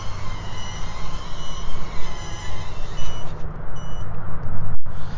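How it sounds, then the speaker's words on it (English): A Happymodel Mantis85 small FPV drone sounds a low-voltage warning, a thin, high, steady electronic beep over loud, continuous motor and wind noise, briefly cutting out near the end. "Why is my battery? It's already beeping at me."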